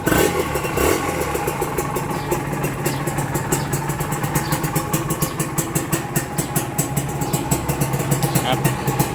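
A Honda NSR 150 with round headlights, a lowered front and 17-inch mag wheels runs at a steady, close idle, its clear-toned exhaust pulsing in a quick, even rhythm, with a voice faintly underneath.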